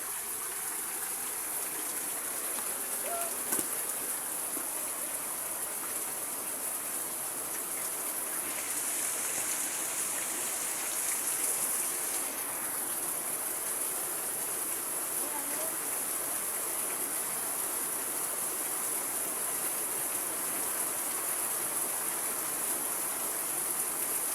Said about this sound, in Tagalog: Nandyan na yung baha.